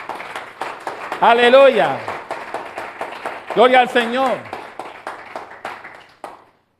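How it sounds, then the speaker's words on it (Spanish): A church congregation claps steadily at a Friday teaching service, a continuous patter of many hands. Loud shouted voices of praise rise over it twice. "denle un fuerte aplauso al Rey si usted lo cree"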